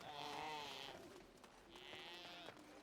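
Goat-like bleating from creatures in a Dalish Mage playthrough of a fantasy role-playing game, two drawn-out wavering bleats about a second apart, fairly faint against quiet background.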